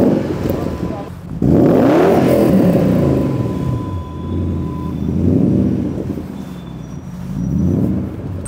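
A BMW 7 Series sedan with a newly fitted exhaust rumbles nearby with a deep, throaty note, swelling in several revs over a steady idle, while voices talk over it.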